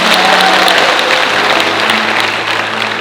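A church congregation claps their hands together in praise during a worship service. The applause is loud and continuous throughout, a steady wash of many hands with no voices on top.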